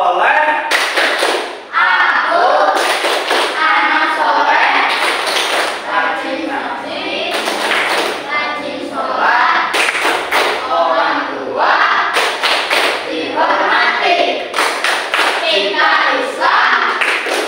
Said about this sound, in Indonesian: Sekarang tepuk anak soleh.